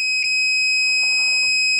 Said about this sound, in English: put one post on this and the other here, and you want to hear that beep